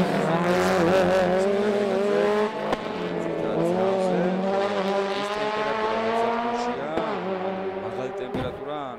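A rally race car's engine revs hard as it climbs the mountain hill-climb course at Didgori, round three of the Georgian championship. The loud, near engine note rises and falls through gear changes, with a sharp dip partway through.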